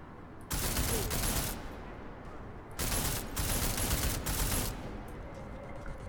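Assault rifle gunfire in the video game Deus Ex Mankind Divided, two loud sustained bursts of rapid automatic fire separated by a short pause, up close with no talking.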